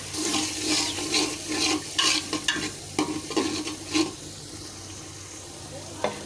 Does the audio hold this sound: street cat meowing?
no